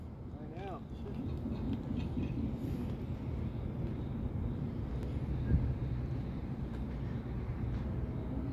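Northbound Norfolk Southern intermodal freight train passing on the track, a continuous low rumble and rolling roar that holds steady throughout, with a faint tonal squeal near the start.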